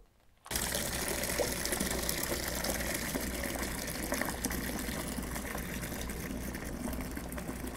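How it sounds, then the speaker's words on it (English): Wine kit juice pours steadily into a clean food-grade plastic bucket fermenter, a continuous gushing splash that starts abruptly and holds at an even, close level throughout. "I'm just going to pour this into a primary fermenter, which in my case, I'm just going to use a clean food grade bucket with a lid."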